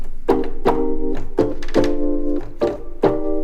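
A Pianette T electric piano plays a short series of mellow, plucky chords and notes, about six evenly spaced strikes with quick decays, close and clear with no talking.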